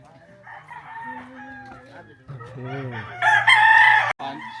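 A rooster crows repeatedly on a poultry farm in the Philippines, the calls rising to a loud, close crow near the end, with clucking fowl and a steady low hum underneath.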